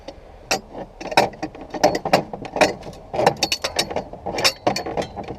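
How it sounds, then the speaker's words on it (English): Wrench loosening a bolt on an abandoned 1968 Buick Skylark, heard as a string of close, sharp metallic clicks and ratcheting bursts coming in uneven spurts over a few seconds, with no talking. "Bolt's coming loose."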